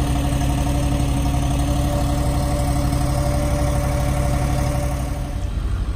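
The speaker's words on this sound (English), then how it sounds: "Listen to that motor, huh? A pretty happy motor for Arctic weather to me." Motor running in Arctic cold during firewood processing, a loud, steady idling drone with a low, even rumble, alone without talk.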